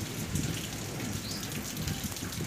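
Heavy rain pours steadily over a garden lawn, a dense, even hiss of drops with no voices, holding at a moderate level throughout.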